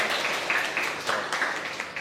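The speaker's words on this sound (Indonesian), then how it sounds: "Baik, Dela, tepuk tangan untuk Dela." Applause from an audience at an Indonesian school learning event, a brief burst of clapping at moderate volume with uneven, overlapping claps.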